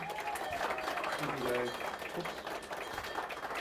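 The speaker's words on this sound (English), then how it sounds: "One last round of applause for Brandon Plunkett." An audience applauds at a workplace tuition reimbursement presentation, a steady patter of clapping heard under a speaker's voice for the full stretch.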